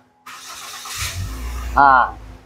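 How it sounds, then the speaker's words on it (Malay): Toyota Vios with a 1NZ-FE engine starting up: a starter whir, then the engine catches with a brief louder surge before settling into a steady idle, close by. "Jadi kita start dulu kereta."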